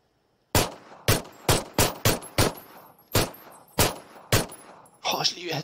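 A string of about ten sharp, close gunshots in a shooter game, fired at an uneven pace with short gaps, each ringing briefly, ending in a noisier clatter; no talk over the shots.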